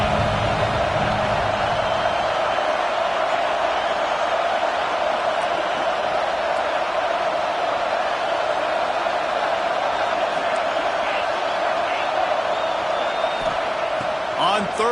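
Home crowd at a Georgia vs Texas football game roaring loudly, a steady wall of dense cheering that holds unbroken for the whole stretch, with a commentator talking over it.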